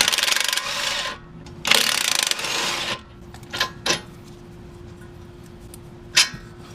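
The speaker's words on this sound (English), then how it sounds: "I'm going to remove this 2 bolt." A hand ratchet works a bolt loose on a 2006-2011 Honda Civic during engine removal: two close bursts of scraping, clicking ratchet action, then a few scattered metallic taps over a faint steady hum.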